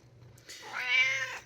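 A cat gives a single drawn-out meow, close and fairly clear, rising and then tapering off over about a second, with no voices around it.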